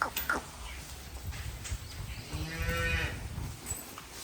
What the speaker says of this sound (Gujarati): જે પેલી કાબરીની મોટી ગાય છે એની બાજુમાં વાસળી